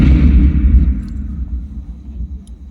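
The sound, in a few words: Mughal cannons firing in battle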